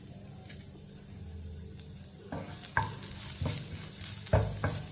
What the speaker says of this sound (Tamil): இது நல்லா வதக்கிக்கிடுவோம்.